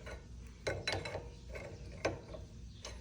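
Nuts being spun by hand onto the threaded bolt shaft of a rear lateral link on a 2009-2020 Dodge Journey, giving a few light metallic clicks and ratchety rasps at close range with no talking.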